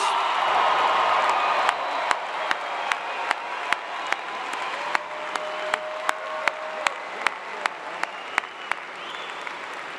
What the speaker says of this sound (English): How about another really loud round of applause for our newest graduates?